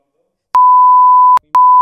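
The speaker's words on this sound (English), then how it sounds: "I'll beep it out." A loud pure censor beep covers a spoken word during a podcast conversation: one long tone, a short gap, then a second tone that starts and runs to the end.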